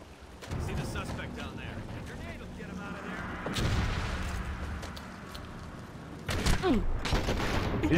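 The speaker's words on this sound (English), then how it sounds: "These grenades are so unreliable." Grenades burst in the Enter the Matrix video game, a couple of heavy booming blasts with rumbling tails spaced a few seconds apart, set against steady in-game noise and a faint voice.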